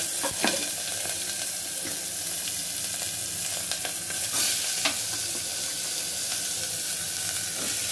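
Vegetables and soaked soybeans hiss and sizzle in a hot pan for a healthy oats dish, with scattered clinks and scrapes of stirring over a steady frying noise.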